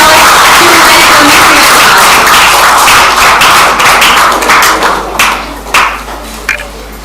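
Applause from the audience at a school career fair, loud dense clapping close by that thins out and trails off into scattered claps near the end, with no talking.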